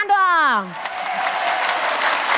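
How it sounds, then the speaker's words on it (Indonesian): Audience applause at an Islamic talk on debt, a steady dense wash of clapping that follows a brief spoken voice at the start and continues evenly to the end. "Tepuk tangan dong."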